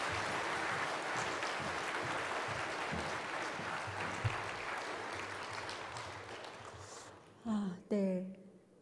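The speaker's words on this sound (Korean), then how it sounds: "조금 약하게 박수를 쳐주신 것 같아요" A church congregation at a family worship service applauds faintly, a soft, steady patter of clapping lasting about seven seconds before it dies away and a voice begins speaking.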